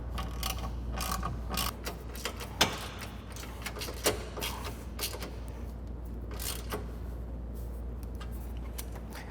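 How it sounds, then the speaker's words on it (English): A ratchet tightening the bumper screws on a Polaris Ranger during a winch mount install, with repeated close clicking bursts over a low steady hum, no voices. "Once all 7 screws have been started, tighten and torque to specification."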